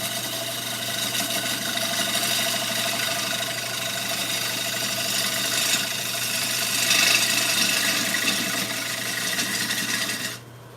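A wood lathe turns a bowl as a gouge cuts into the spinning wood. A steady motor hum sits under a continuous scraping rasp for about ten seconds, then cuts off abruptly near the end.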